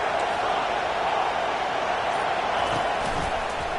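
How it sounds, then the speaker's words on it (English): A football stadium crowd roars steadily for the defense in the red zone, a dense, sustained wash of cheering with no break. "The crowd getting behind this defense as they try to get a stop in the red zone"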